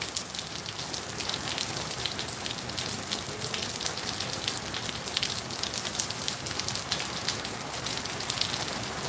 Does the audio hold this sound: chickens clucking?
no